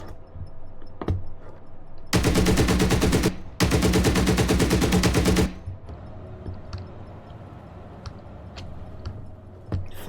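Two long, loud bursts of automatic fire from an unstabilized vehicle gun in the tank game GHPC, separated by a brief gap, with quieter ambient rumble and a few faint clicks before and after.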